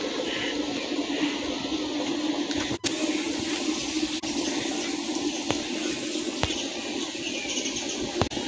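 A pot of water at a rolling boil during traditional Maharashtrian home cooking, giving a steady, dense bubbling roar throughout with a few sharp clicks and knocks on top; no one talks.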